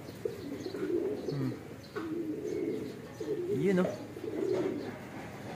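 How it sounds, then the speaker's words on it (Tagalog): Pet pigeons coo in soft, throaty bursts at close range while someone talks over them in a quiet setting. "Yung mga ibon natin, oh."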